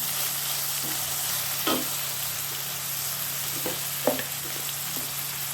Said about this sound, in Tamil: தக்காளி வெங்காயம் நல்லா வதங்கி வருது